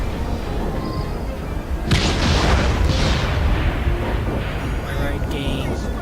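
Loud boom of explosives going off in Assassin's Creed Syndicate, set on a train after the locomotive is detached: a sudden blast that cuts through a noisy rumble, then a lingering roar and crackle, with speech underneath.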